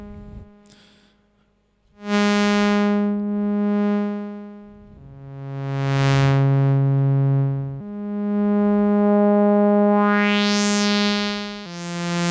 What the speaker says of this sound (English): So we can get nice kind of sweeping.